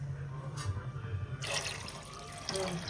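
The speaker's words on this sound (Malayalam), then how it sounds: "വെള്ളം ഒഴിച്ചത് രണ്ട് ഒന്നര കപ്പ് ഒന്ന് വെള്ളം വേണം രണ്ട് കപ്പ് വെള്ളം കൊടുക്കണം" About two cups of water splash and trickle steadily into a cooking pot for upma for a few seconds, with a brighter pouring rush starting midway, close by and moderately loud.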